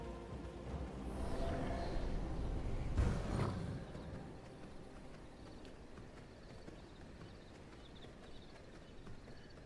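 Galloping horse hooves in the video game Fallout 76, a busy clip-clop rhythm rising to a louder burst mid-clip before settling into steady, moderate hoofbeats under game ambience.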